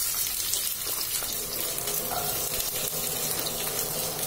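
Okra being sautéed in a pan for a potato and lady's finger fry gives a steady, close sizzle and crackle with a watery hiss throughout, with no talking.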